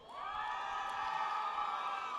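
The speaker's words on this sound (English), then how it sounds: "Candidates may cheer once again and be seated" Graduating students at a spring commencement ceremony cheer and whoop together, a sustained mass of voices with a somewhat distant, roomy sound.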